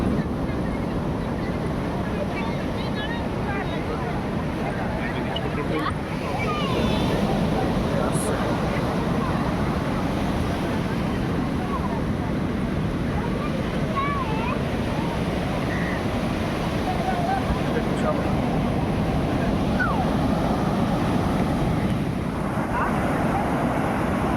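A fishing boat comes in through heavy surf at Puri beach, a constant loud roar of breaking waves and wind buffeting the microphone, with people talking throughout.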